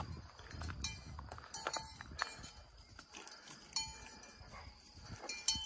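Cowbells on cows clink and clank irregularly at close range in rural Montenegro, with faint rustling and animal movement in the background.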